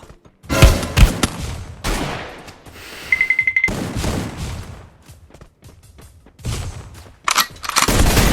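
Gunfire in Free Fire comes in loud, close bursts and single sharp shots spread across the moment, with a rapid clicking beep in the middle and brief gaps between volleys.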